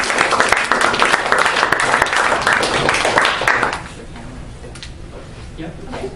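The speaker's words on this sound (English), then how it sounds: "Round of applause, please" Audience at a classroom group presentation giving a round of applause, a dense loud burst of clapping for several seconds that cuts off abruptly into a quiet room with faint voices.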